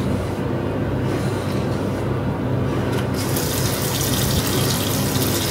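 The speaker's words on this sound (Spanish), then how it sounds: "Lávalo, abre el grifo y acláralo un poquito." Water runs from a sink tap in a steady, close rushing stream while a toothbrush is rinsed under it, with no speech.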